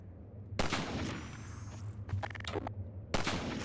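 Enemy soldier gunfire in the shooter Half-Life 2, with several sharp, fairly faint bursts of automatic fire separated by short pauses over a low hum.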